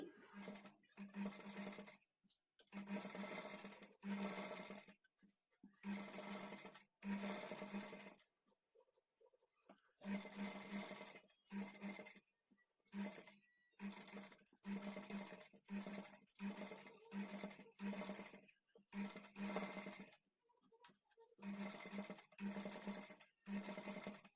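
A sewing machine stitches along the edge of thread piping in repeated bursts of steady motor whir, separated by short pauses, close and loud with no one talking.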